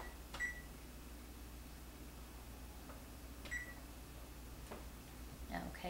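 A kitchen oven beeps as it is set to preheat to 400 degrees, with a few short, thin electronic tones spaced several seconds apart over a steady low hum.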